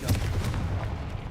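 Confringo fire spell blast in Hogwarts Legacy, one punchy booming impact followed by a short rumbling decay.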